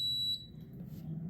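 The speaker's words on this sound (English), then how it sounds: "It beeps like that." A pressure cooker air fryer gives a single bright electronic beep as it starts up, fading after a moment into faint background noise.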